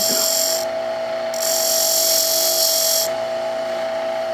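Wood lathe turning a piece while a tenon is dressed, a steady tonal machine whine with a constant hum, bright high cutting noise swelling and dropping twice as the tool meets the wood.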